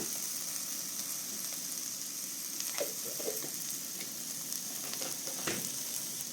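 A steady, loud sizzle of frying fills the pan as a ground spice paste goes into mango curry, with brief stirring scrapes and clatters on top.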